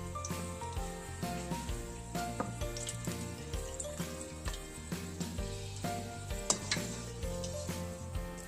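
Twitch snacks sizzling in hot oil as they are dropped in, a steady crackling fry with small ticking pops, close and continuous with no voices.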